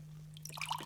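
Water is poured into a drinking glass, beginning as a soft trickle and growing into brighter splashing and dripping in the second half, heard up close and alone over a steady low hum.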